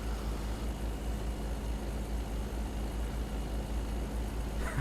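A heavy truck engine in American Truck Simulator drones through an open cab window as a steady, low, even rumble with no change in pitch throughout.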